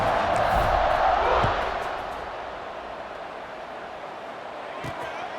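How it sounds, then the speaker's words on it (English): A stadium crowd buzzing in a college football video game, a broad roaring wash of many voices that swells early and then settles into a steady murmur, with a commentator talking over it. "this crowd is buzzing after that last score"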